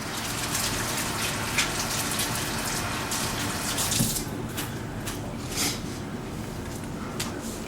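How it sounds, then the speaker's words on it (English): Running tap water pours steadily into a kitchen sink while hands are rinsed during stuffed pepper preparation, a continuous close splashing gush with a few brief clinks, no talking. "Let me rinse my hands"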